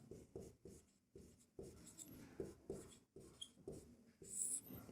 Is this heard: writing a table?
yes